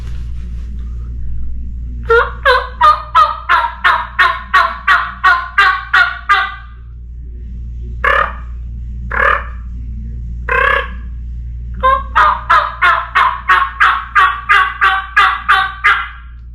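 A batwing mouth turkey call imitating a turkey gobble, loud and close. Fast rattling bursts of gobbling come first, then three short separate yelps, then another long rapid gobbling run, all over a steady low hum.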